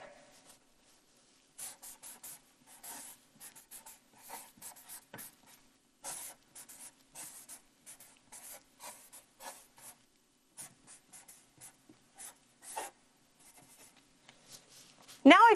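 Pen or pencil scratching across paper in short repeated bursts of writing, close and fairly quiet, with brief pauses between strokes and no talking.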